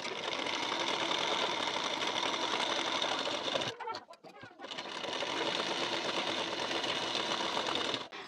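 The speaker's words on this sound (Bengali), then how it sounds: "ফ্রন্ট পার্টটি প্রথম সেলাই করব।" A sewing machine stitches the front parts of a blouse in a fast, steady whir, close up. It stops briefly midway and then runs on again, with no talking.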